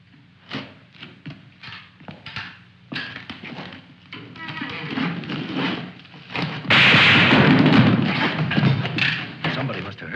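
Sharp gunshots and heavy impacts from a 1953 war film scene on an island, a burst of irregular cracks and thuds followed by a loud, dense stretch of firing and commotion, with voices in the mix.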